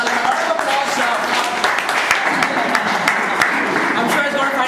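Continuous applause from an indoor audience, a dense steady wash of clapping with a few sharper individual claps standing out and faint murmuring voices underneath.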